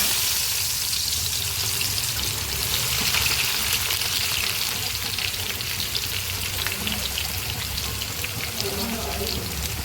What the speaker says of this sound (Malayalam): നമുക്ക് 2 സവാള നീളത്തിൽ അരിഞ്ഞത് ഇതിലേക്ക് ഇട്ട് നമുക്ക് വറുത്തെടുക്കാം.